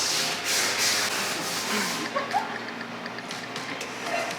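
Sandpaper rubs back and forth over small offcut wood pieces in a woodworking shop, a steady close scratching that runs the whole time with brief softer knocks.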